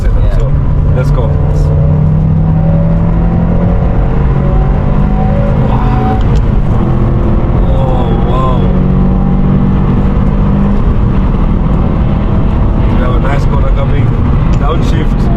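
A Subaru RA-R, a one-of-one car in Kenya, is driven hard along a winding road. Its loud engine roars and rises and falls through gear changes, heard from inside the cabin beneath excited talk.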